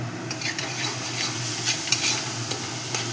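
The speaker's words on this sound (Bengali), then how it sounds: "মশলাটাকে শুকনো একটু ভেজে নেব" Spice masala with salt and turmeric dry-fries in a pan for chicken biryani. A soft, steady sizzle is broken by light scraping stirs, with no talking.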